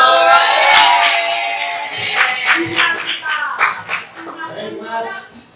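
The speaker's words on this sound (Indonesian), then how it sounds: "tepuk tangan." A mathematics class claps hands together, a burst of overlapping claps at first, then scattered, uneven taps and claps fading out, with faint voices in the room.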